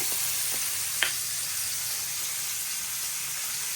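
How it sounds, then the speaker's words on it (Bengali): Constant bright sizzling of fish frying in a pan, steady and close, with a light tap near the start. "আগে মাছটা ভাজা নিতেছি"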